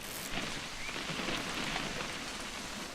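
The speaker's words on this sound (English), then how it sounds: "It's gonna rain the whole weekend, isn't it?" Steady rain falling in the What Remains of Edith Finch video game, a dense even patter of drops on surfaces throughout, with no voices.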